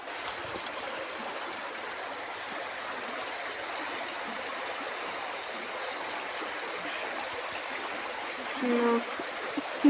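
Steady rushing stream water flows continuously outdoors, a broad even wash heard nearby, with faint voices briefly underneath.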